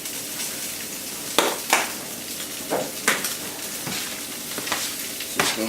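Seasoned raw pork for sweet and sour pork is mixed in a bowl, with irregular wet slaps and squelches, plus occasional utensil clinks, close and moderately loud.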